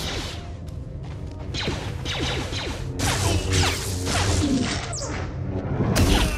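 Lightsaber deflections of blaster bolts in the Star Wars: The Old Republic game, a flurry of whooshing swings, sharp zaps and crashing impacts over a low rumbling battle bed, fairly loud and busy with no voices.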